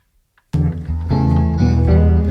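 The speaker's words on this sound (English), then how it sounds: "There's that rhythm fill and the trill" A blues guitar plays a rhythm fill and trill riff in a Chicago blues style. It enters suddenly after a brief silence, then rings with sustained, ringing chords and quick note changes, up close.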